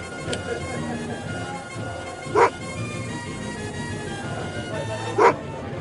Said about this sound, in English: There's a dog there. I wouldn't interact with the dog.